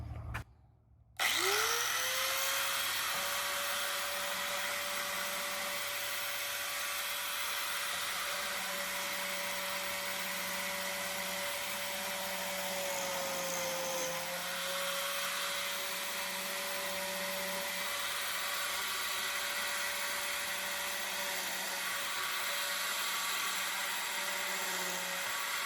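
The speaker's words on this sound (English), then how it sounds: "let's try this biscuit joiner out so you can see how it works" A biscuit joiner spins up and runs as a steady, moderately loud motor whine for over twenty seconds in a workshop-like room, with a slight dip in pitch midway.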